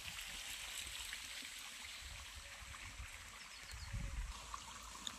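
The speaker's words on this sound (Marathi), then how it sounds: "ह्या कडच्या साऱ्यात लावले पाणी." Irrigation water trickles steadily into a furrow of a wheat field, a soft continuous flowing and gurgling close by, swelling slightly toward the end.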